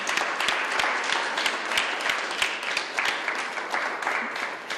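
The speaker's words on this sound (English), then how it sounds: "So now we can applaud for Jan." An audience applauds steadily for Jan, an organizer being honored at an event, with dense, continuous clapping at moderate level and no talk over it.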